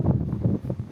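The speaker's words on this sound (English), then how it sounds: "It is windy." Strong wind gusting across the open deck of the Sapphire Princess cruise ship at sea near a hurricane, a steady low buffeting rush that pulses in uneven gusts close to the microphone.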